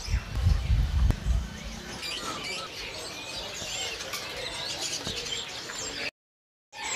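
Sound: birds chirping at bird market

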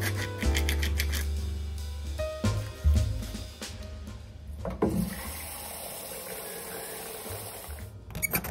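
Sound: tap water filling a measuring cup

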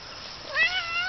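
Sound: cat meowing

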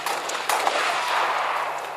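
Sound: gunfire in the Halo video game

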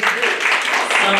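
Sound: applause at a cooking contest award ceremony

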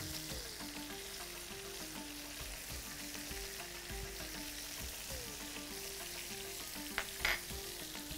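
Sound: beef fillet frying in a pan

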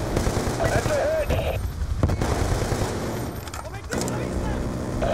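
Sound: gunfire in the video game Call of Duty Black Ops 2

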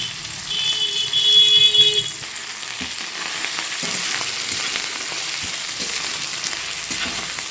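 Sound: onions being stirred and fried for rohu fish curry

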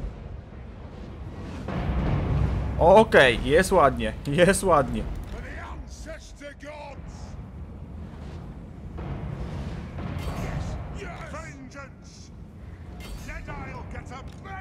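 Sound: dwarf artillery cannons firing in video game Total War Warhammer

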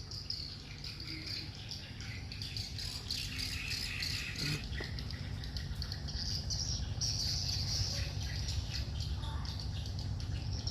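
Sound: pet birds calling

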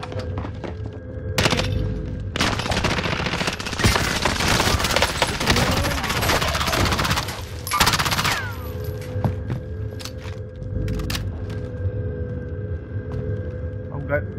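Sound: gunfire in Call of Duty Modern Warfare video game

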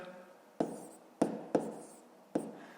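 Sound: writing numbers by hand

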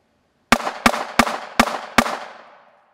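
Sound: rapid fire gunshots from ISSC M22 .22 target pistol

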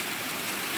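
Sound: rainy season water flowing in a forest stream

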